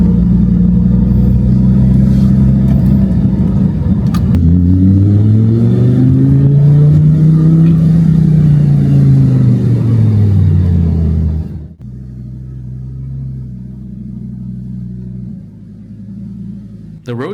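A Lamborghini Gallardo with a rebuilt oil pump revs hard on a road test, the engine note climbing and falling in a long sweep before dropping to a lower steady drone, loud and close, with a voice audible.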